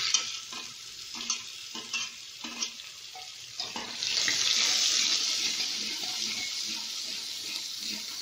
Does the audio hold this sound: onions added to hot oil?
yes